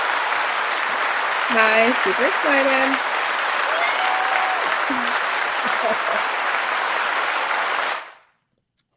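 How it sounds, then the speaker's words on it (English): Canned applause sound effect dropped into a podcast, a dense burst of clapping and cheering that runs for several seconds, briefly overlapped by a voice, then cuts off abruptly. "Give her some hand claps."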